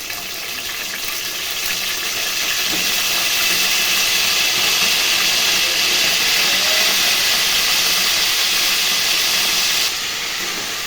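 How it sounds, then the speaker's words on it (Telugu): Brinjal pieces fry in hot oil in a pan for a masala dish, a loud, steady hiss that swells slightly and then drops near the end, close with no voices. "ఇప్పుడు వేసేస్తున్నా వంకాయలు."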